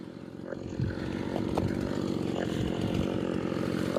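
A chainsaw runs steadily at close range cutting firewood logs to size, its engine droning continuously with slight rises in pitch as it works through wood.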